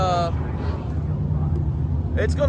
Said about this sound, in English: The other sprint car, the 305 sprints are going down. That's what you're hearing in the background.